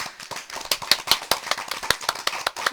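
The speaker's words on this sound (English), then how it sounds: "PBG and John clapped politely first" Light, sparse hand clapping from a few people in a visual novel video game, uneven and polite, close by with no talking.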